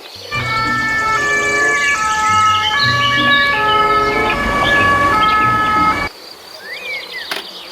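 A toy ambulance plays a loud electronic siren melody of stepped, wavering tones for about six seconds, then cuts off, leaving quiet room noise.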